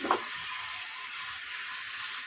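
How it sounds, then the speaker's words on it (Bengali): Chicken frying in a spice paste gives a steady, even hiss of sizzling with a faint scrape at the start, close and constant. "চিকেনটা দিয়ে এবার কিছুক্ষণের জন্য কষিয়ে নেব।"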